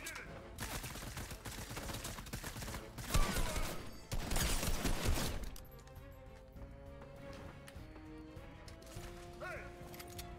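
Bursts of rapid gunfire from a bot in a shooter video game come in dense volleys for several seconds, then give way to quieter game sounds.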